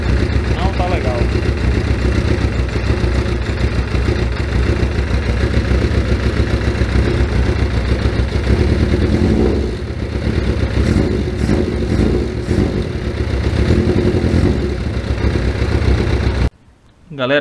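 A Suzuki GSX750F motorcycle engine with freshly tuned carburetors and low fuel runs close by, idling roughly with throttle blips and uneven revving, then abruptly cuts out near the end.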